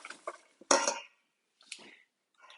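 Half and half stirred into eggnog with a utensil, giving a few close metallic clinks and scrapes against a bowl in short bursts separated by silence.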